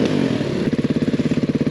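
An enduro dirt bike engine sounds loud and close, a sustained roar that settles into a fast, pulsing idle-like throb.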